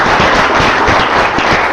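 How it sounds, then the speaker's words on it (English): An audience at a tech pitch meetup breaks into applause, a loud, dense wash of many hands clapping that holds steady through the whole moment. "Round of applause to everybody."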